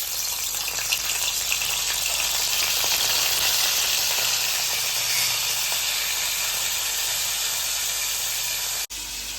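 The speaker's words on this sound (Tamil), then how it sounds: "எண்ணெய் காஞ்சதுக்கு அப்புறம் கழுவி வச்சிருக்க துண்டங்கருவாடை போட்டுக்குவோம்." Washed dried fish pieces fry in hot oil with a loud, steady close sizzle and hiss, unbroken until a brief dip near the end.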